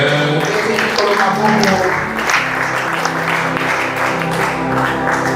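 A church congregation applauds and acclaims the Lord at a Sunday service, with loud, steady clapping and cheering all the way through while voices call out over it.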